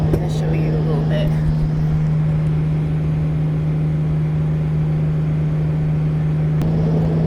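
Car interior on a scenic road: a steady low engine and road hum rolls on continuously, with a person talking over it throughout.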